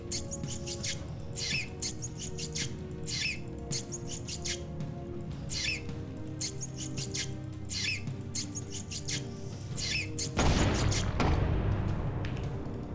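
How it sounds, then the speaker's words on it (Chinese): Rats in Warcraft III Reforged give repeated high squeaks and chirps over game music, ending in a louder, noisy explosive burst that lingers. "你要看老鼠爆炸哦，来啊！"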